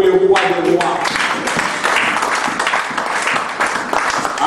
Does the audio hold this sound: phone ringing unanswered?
no